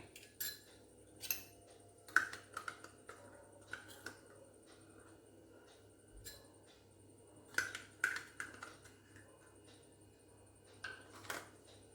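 Aloe vera gel is mixed in a glass bowl: quiet, irregular spoon clinks and taps against the glass come in small clusters over a near-silent background, with no voices.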